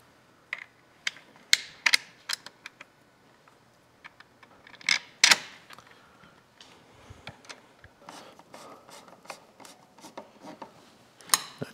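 Screws driven into a tail light mount with a hand tool, producing a series of sharp close clicks and ratcheting ticks in irregular bursts over quiet background.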